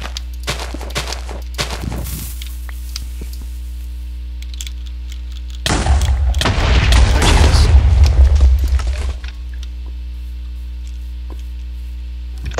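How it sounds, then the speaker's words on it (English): Two bursts of booming explosions in Minecraft over a steady electrical hum, the second longer and louder, with quiet gaps between. "I hear a bunch of explosions."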